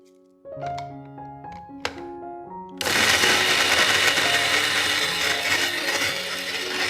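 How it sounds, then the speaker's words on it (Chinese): Soaked kidney beans and oats are dropped into a blender with a few hollow thunks and clatters before the motor starts, then a loud, steady whirring grind continues close up to the end. "将已浸泡2个小时的腰豆和15克的麦片放入搅拌器中"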